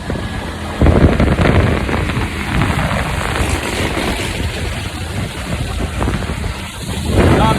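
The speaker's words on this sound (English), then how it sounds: "and it's still raining" Steady rain hissing with heavy wind buffeting the microphone and a low rumbling drone, like riding along on a motorbike in a downpour in Ninh Binh, Vietnam.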